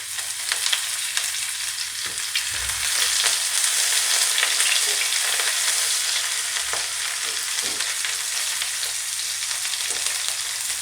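Chopped onion frying with pumpkin in a pan, a loud continuous sizzle with occasional stirring scrapes and no talking.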